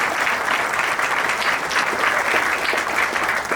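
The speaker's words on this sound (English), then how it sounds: "Pat's giving himself a round of applause" A crowd applauds steadily at the inauguration of Brockton's public safety building, dense continuous clapping at full volume throughout with no talk over it.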